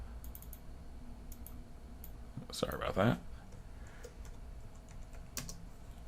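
Typing on a computer keyboard, a quick run of close clicking keystrokes with a denser burst in the middle and a few scattered taps, while a person speaks briefly.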